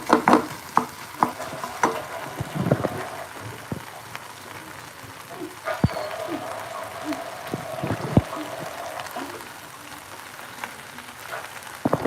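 Chicken burger filling with coriander fries in a pan, giving a soft steady sizzle broken by irregular close scrapes and knocks of a spatula stirring.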